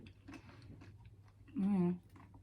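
Someone chews a bite of tortilla shell topped with avocado at a Mexican meal, a brief burst of close, moist chewing after about a second and a half of quiet mouth sounds.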